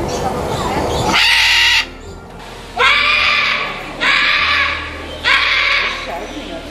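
A green-winged macaw screams loudly, four long harsh raucous calls separated by short pauses, close and dominant, with someone speaking beforehand.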